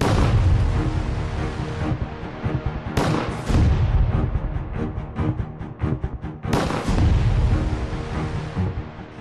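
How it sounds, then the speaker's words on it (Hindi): Three loud gunshots ring out one after another at a street crime scene in Delhi, each a sharp broadband crack, the first near 0 s, the second near 3 s and the third near 6.5 s, with a long rumbling decay after each and no talk. "अचानक एक के बाद एक चली 3 गोलियों की आवाज ने पूरे इलाके को थर्रा दिया"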